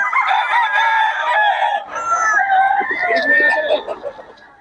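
Sweater gamefowl roosters crow loudly at a market in Bocaue, one long crow close by followed by more crowing and clucking from other birds.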